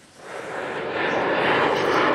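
A fixed-wing airplane passes overhead, its broad engine roar swelling steadily from moderate to loud and holding near its peak, with no talk over it.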